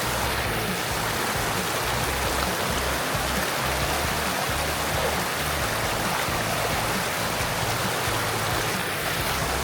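River water on a trail near Barangay San Andres, Tanay, rushes in a steady, broadband wash that stays even for the whole stretch, with no voices over it.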